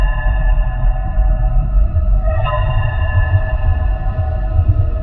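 Hall and vents alert from the Five Nights at Freddy's 2 video game, a sustained, eerie electronic drone with steady tonal layers over a rumbling low hum, one brief warble midway, loud and continuous.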